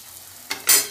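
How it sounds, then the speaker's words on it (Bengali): Rolled luchi, puffed wheat flatbread, fry in hot oil. A soft background hiss swells into a sharp sizzle near the end. "দেখুন খুব সহজ পদ্ধতিতে আমি লুচি বেলে এই যে টপাটপ ভেজে"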